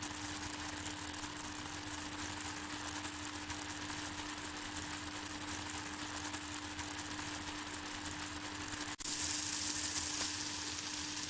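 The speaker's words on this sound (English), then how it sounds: "Now cook until the tomato puree is thick and oil is visible." Tomato puree cooking down in oil in a pan, giving a close, steady sizzle with a faint constant hum beneath it, nearly unchanged throughout and briefly broken by a small knock near the end.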